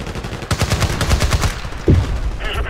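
An Uzi submachine gun in Battlefield Play4Free fires in a rapid, close burst of evenly spaced shots lasting about a second, then pauses before a single heavier crack and lingering game noise.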